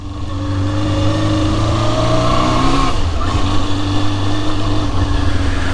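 A Yamaha Zeal 250, a 250cc four-cylinder motorcycle, howls through its exhaust at high revs, a loud, close, sustained wail whose pitch climbs, dips briefly, then holds steady.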